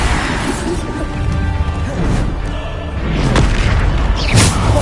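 Bombarda spell explosion in the video game Hogwarts Legacy, a loud booming crash with heavy low rumble that stays dense throughout and is topped by sharp impact hits near the end.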